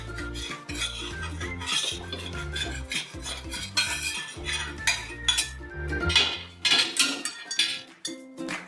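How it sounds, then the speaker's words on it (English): Metal spatula scraping naan off a hot tawa, loud continuous scraping and clinking strokes with metallic rattles, close up and without talk. "we need to scrape the naan out of the tawa"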